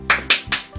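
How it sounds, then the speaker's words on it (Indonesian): A schoolroom of children clapping a rhythmic chant led by a teacher, three sharp claps in quick succession followed by a softer fourth, close and loud, with no talk over them. "Tepuk semangat."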